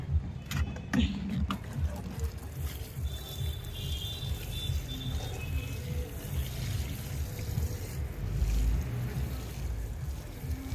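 Water pours onto soil in home garden beds with a continuous, moderately close rushing splash that shifts slightly in strength, with faint voices murmuring in the background.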